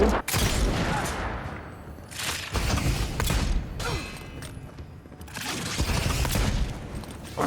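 Bursts of gunfire in the fantasy game Avowed, several loud volleys separated by short pauses, with mechanical clatter and booming impacts between them.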